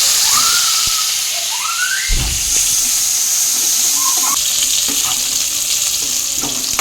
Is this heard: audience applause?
no